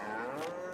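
Cows moo in Farming Simulator, a single steady low game-audio call held for under a second, moderately quiet and heard on its own.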